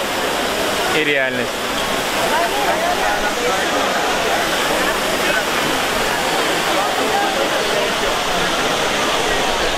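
A large fountain in Rome, with water pouring and splashing in a loud, constant roar that fills the whole stretch, and a brief voice near the start.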